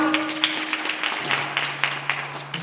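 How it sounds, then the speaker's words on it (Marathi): An audience claps at a Marathi kirtan, a scattered rhythmic patter of hand claps over a steady sustained drone, moderately loud throughout. "टाळी वाजवा."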